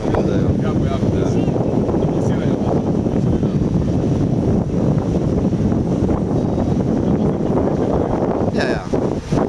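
Ride aboard a 320 hp taxi speedboat off Poreč, a constant loud roar of engine, rushing water and wind buffeting the microphone throughout, with brief voices underneath.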